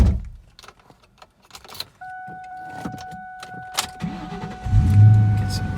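A 2001 Ford Mustang GT is started from inside the car, with soft clicks and rustling before a steady whine sets in partway through, then the engine catches and settles into a loud, low rumbling idle.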